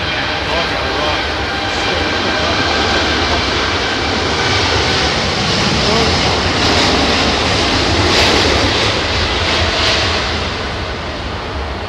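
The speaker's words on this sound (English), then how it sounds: "El Al takes to the skies." An El Al airliner takes off on a windy day at London Heathrow, with a loud, sustained jet engine roar that fills the whole stretch and swells slightly as it climbs, while wind buffets the microphone.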